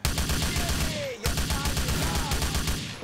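Gunfire in the video game Grand Theft Auto IV, a dense fusillade of overlapping shots that runs nearly throughout, breaking off for a moment midway before resuming at full loudness.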